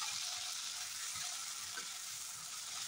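Chopped tomatoes hit a hot spice tempering in a pan for vegetarian chana masala, giving a steady, even sizzle of frying throughout with faint stirring scrapes, no talking.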